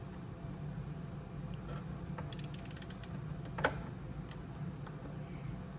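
A socket wrench ratchets on the ignition of a Venom x22R MAX 250cc motorcycle, a quick run of close, crisp clicks followed by a single sharp metallic knock. Faint background hum sits underneath.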